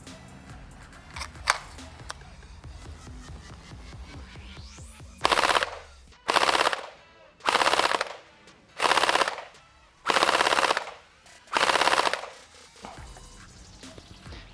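An RX AKS-47 gel blaster fires through a chronograph in six sharp full-auto bursts of roughly a second each, evenly spaced and loud, after some quieter handling clicks and rattles.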